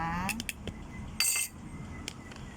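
A metal tablespoon clinks against a cup while two spoonfuls of sugar are measured for a honey lemon drink, a few sharp, bright taps at close range, with someone speaking over them.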